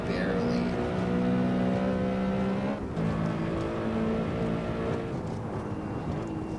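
A BMW M3 E92 drifting at Magione in Assetto Corsa, its engine holding a loud, steady high-revving drone with small pitch shifts and a brief dip, running continuously throughout.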